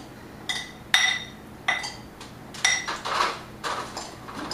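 Garbanzo beans tossed with smoked chipotle cayenne pepper in a bowl, a handful of bright clinks and rattling clatters in uneven bursts, fairly close, with no voices.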